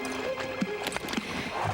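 A horse slogs through a boggy, muddy marsh, giving a few dull, wet hoof thuds and a brief snort or whinny, fairly close over a steady outdoor background.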